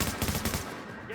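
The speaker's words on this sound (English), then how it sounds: "Suppressive fire, now!" Suppressive gunfire in a video game crackles as rapid automatic bursts, loud and close, pulsing in a fast rhythm before easing off, with a short rising tone at the end.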